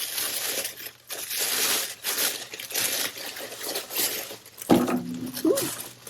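Macy's beauty box packaging being unwrapped: close crinkling and crumpling of paper and plastic in steady rustling waves, followed by a brief clatter near the end.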